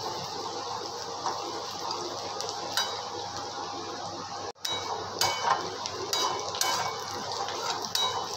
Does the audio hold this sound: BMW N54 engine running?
no